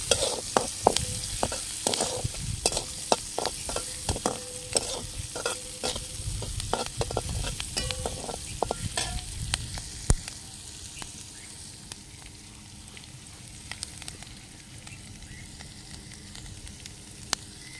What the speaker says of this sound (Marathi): आता कांदा आपल्याला लाल भाजून घ्यायचा आहे.